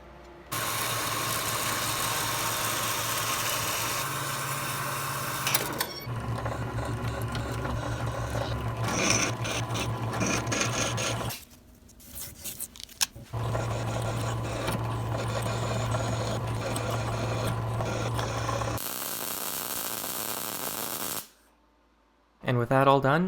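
Steel tubing for a CNC router frame being cut down by half an inch, a steady loud mechanical whine and buzz with a low hum, stopping and restarting in long runs.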